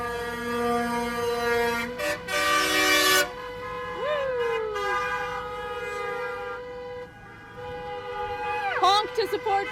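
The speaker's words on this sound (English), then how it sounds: "Honk to support freedom." Truck horns blaring in a trucker freedom convoy in Grande Prairie, Alberta, including a military truck: long sustained horn blasts with a bright toot and pitch-bending air horns, heard from inside a vehicle with people talking.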